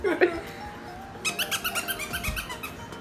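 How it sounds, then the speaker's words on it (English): A dog barking in rapid repeated yaps at home while playing with another dog, close and fairly loud, with people talking faintly beneath. "She just barks."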